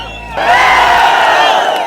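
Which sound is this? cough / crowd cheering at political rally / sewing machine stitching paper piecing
crowd cheering at political rally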